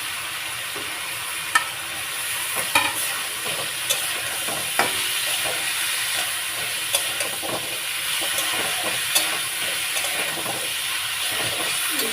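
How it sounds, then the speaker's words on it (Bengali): Long beans (barbati) sizzling in a hot pan with turmeric and salt for a Bengali fish, potato and bean curry: a steady, close frying hiss with occasional stirring clicks, no voices. "বরবটিগুলো দিয়ে দিলাম"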